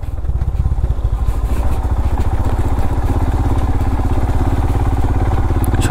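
Engine of an off-road vehicle driving on a hill road near Kookal in Kodaikanal, a steady, loud, close chugging drone with a clattering rhythm that holds throughout without a break.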